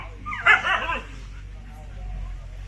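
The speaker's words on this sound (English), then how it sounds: "The dogs are freaking out." Dogs on temple grounds in Sri Lanka near a Bodhi tree bark and yip in an agitated burst, with whimpering mixed in, under and alongside nearby talk.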